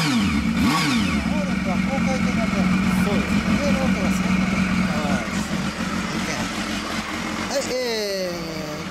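A 1996 Honda Hornet motorcycle engine runs close by with a steady idle and a few quick revs rising and falling, while people talk and other traffic passes.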